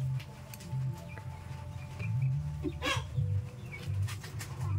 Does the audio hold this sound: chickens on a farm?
yes